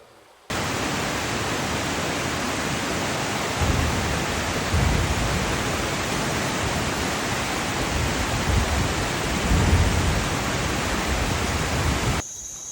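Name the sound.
waterfall at a natural water source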